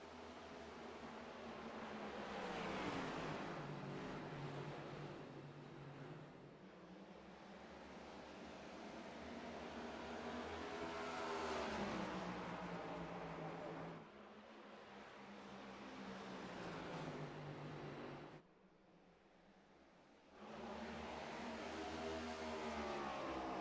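Race cars lapping Iowa Speedway in iRacing, engines whining and droning loudly with rising and falling pitch as cars pass, broken by a couple of brief drops before the roar returns.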